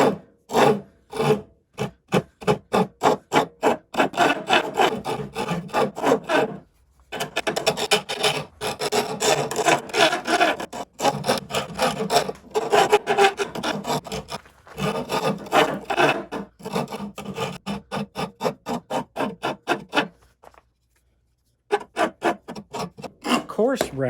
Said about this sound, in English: you can use the rasp to aggressively remove